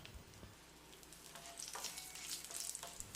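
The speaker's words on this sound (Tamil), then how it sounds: "1/2 டீஸ்பூன் கடுகு, கொஞ்சமாக கருவேப்பிலை, 3 வரமிளகாயை சேர்த்து பிரட்டி விட்டுடலாம்." Mustard seeds, curry leaves and dried chillies frying in hot oil for a mushroom pepper fry, giving a steady close sizzle with sharp crackles and pops throughout, with no voices.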